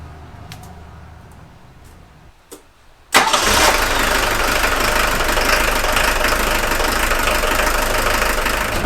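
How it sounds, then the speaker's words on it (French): An old Jeep engine, just after a valve and rocker adjustment, starts with a sudden loud catch and then settles into a steady, close rumbling idle in a garage. "Alors déjà à l'oreille le moteur tourne vachement mieux"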